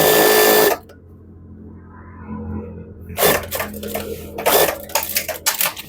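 A sewing machine stitches the edge of a trouser leg, with a loud run at the start, a pause, then several short bursts of rapid mechanical rattling.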